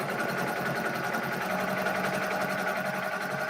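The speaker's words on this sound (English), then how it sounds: "I'm just going to go ahead and sew on the line on these" A home sewing machine stitches pieced quilt fabric with a steady, close, rapid mechanical hum and chatter that runs without a break.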